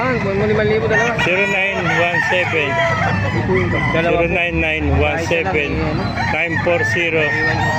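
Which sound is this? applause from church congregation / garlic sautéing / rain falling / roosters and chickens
roosters and chickens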